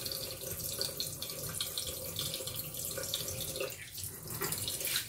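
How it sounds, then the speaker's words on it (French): Tap water runs steadily into a sink as a head is rinsed under the stream after eyebrow tinting, a continuous splashing hiss with no talk. "Donc, je mets la tête sous l'eau."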